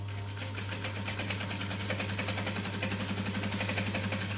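A sewing machine runs steadily while top stitching a garment, its needle chattering in a fast even rhythm with a low motor hum, close and continuous, no voices.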